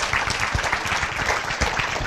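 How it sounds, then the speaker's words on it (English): An audience at a casting panel event applauds warmly, a dense, even burst of many hands clapping close by with no break. "A warm applause."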